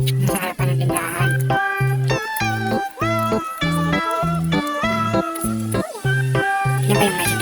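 Stray cats meow loudly and repeatedly in front of a shop, their calls overlapping in a rhythmic, insistent chorus set against a regular tonal pulse.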